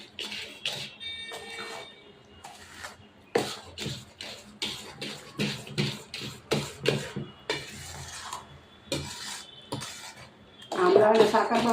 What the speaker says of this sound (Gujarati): ચાલુ કરીને હવે એને સતત હલાવતા રહીએ.